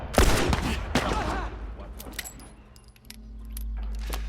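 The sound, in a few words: gunshots from a video game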